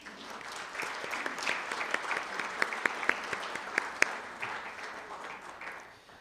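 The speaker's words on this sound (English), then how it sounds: "Please join me in giving them a round of applause." An audience at a hall of fame ceremony for educators claps steadily in a large hall, a dense wash of applause with a few sharper individual claps standing out, fading slightly at the end.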